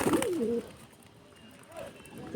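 A hand-fed pet pigeon with a red, injured eye coos once at the start and faintly again later, while a voice talks over the quiet room.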